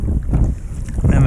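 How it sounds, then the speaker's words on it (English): Gusting wind buffets the microphone during wing-paddle kayaking on open water, a steady low roar that swells and eases throughout with no clear voice. "the wind is picking up"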